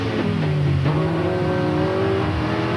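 Special saloon race cars roar around a circuit in 1991 Thundersaloons racing, with a loud, continuous engine drone whose pitch shifts as the cars rev and pass close by, and no voices.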